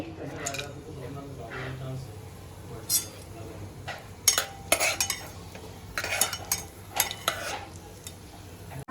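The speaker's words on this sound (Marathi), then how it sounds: "आपण दोन पळी तेल आपण आता ह्याच्यावर टाकूया खडे मसाले" Whole spices go into hot oil in a cooking pot along with crushed garlic and onion. Clinks and scrapes of stirring come in irregular bursts over a soft sizzle, close, with a person speaking.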